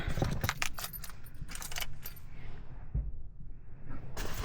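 A set of keys jingles close by on a cold morning, with several bright metallic rattles in bursts, briefly quieter in the middle before a final jangle.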